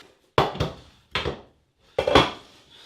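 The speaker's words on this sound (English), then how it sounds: "I've got the frying pan here." A frying pan handled in a home kitchen while making lasagne: three separate bursts of clanking metal knocks and scrapes, close and fairly loud, with quiet pauses between them.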